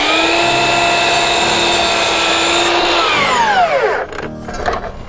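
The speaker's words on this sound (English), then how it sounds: "square up our end on our 2x6" A power saw squares the end of a 2x6 board, a loud, close whine running steadily and then spinning down in falling pitch after the cut, with nothing else heard.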